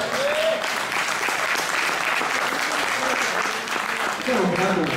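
Sustained, even applause from a theatre audience at a musical show, steady and fairly loud for the whole stretch, with voices mixed in near the end.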